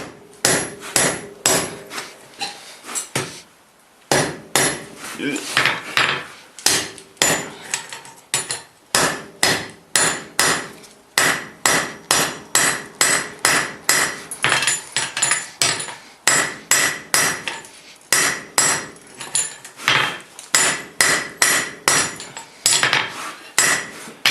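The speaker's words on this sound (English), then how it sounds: "Okay, the rivet the two halves together." Hammer blows set a rivet joining the two halves of forged bolt jaw tongs, sharp ringing metallic strikes in fast, regular runs broken by short pauses, loud and close.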